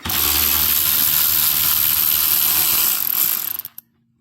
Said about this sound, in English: we're going to use our 13 millimeter socket, and we're going to take this bolt out right here.